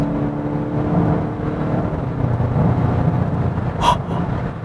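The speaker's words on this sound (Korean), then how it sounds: "자, 그럼 속도를 조금 줄였다가 저속에서 고속으로 풀악셀!" A Volkswagen Golf GTI pulls hard at full throttle from low speed, a loud, steady exhaust and engine roar close by that holds for several seconds, with a brief higher whoosh near the end.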